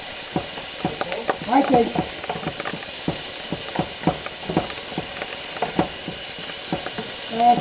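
Beef browns in a hot pan with a soft, steady sizzle, broken by repeated scraping and clacking as the meat is stirred. A voice briefly speaks near the end.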